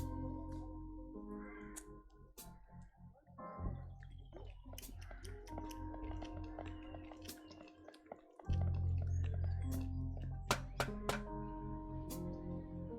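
A cat meows in the video game Trüberbrook, short mewing calls set against a soft, steady musical backdrop with scattered dripping clicks, fairly quiet overall.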